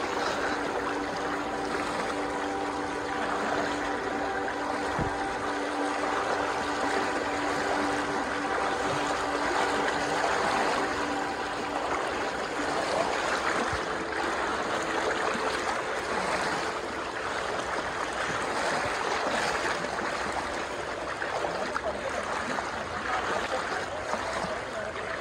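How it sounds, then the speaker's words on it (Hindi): River water rushes steadily over slippery stones on the Kosi River, a dense, constant wash of flowing water heard close by for the whole stretch, with no voices over it. "पानी में देख रहे हैं काय लग गई है, पत्थर फिसल रहे हैं काफी जबरदस्त।"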